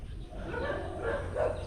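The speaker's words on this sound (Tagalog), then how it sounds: "ano ba tong asong to" A dog gives a few faint, distant barks and yips outdoors, quiet against low background noise.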